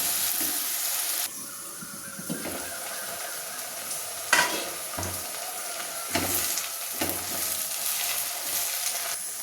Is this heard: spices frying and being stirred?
yes